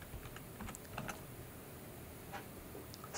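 Quiet, scattered keystrokes tap on a computer keyboard as a short command is typed, with soft irregular clicks over a faint steady background hum.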